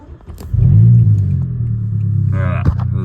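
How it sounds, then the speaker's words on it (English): Vauxhall Corsa engine cranking and catching, jumping into a loud, rumbling idle that settles into a steady low hum, close by, with a brief burst of background noise near the end. "So if we just turn it on, once I can get the car to turn on."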